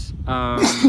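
A single short, sharp sneeze bursts out close by during an indoor conversation, lasting under a second with a rising, voiced catch at the end.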